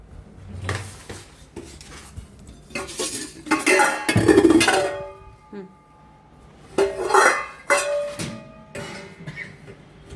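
Pots, dishes and cutlery clatter as they are placed into the rack of a Bosch 15-place dishwasher (SMS6HMI00I), with repeated close metallic clanks and scrapes in irregular bursts and occasional voices.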